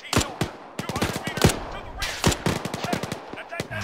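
Bursts of automatic rifle fire in Arma 3 during a Second Korean War alternate-history battle, sharp repeated shots in quick uneven rhythm, loud and close, with brief gaps between volleys.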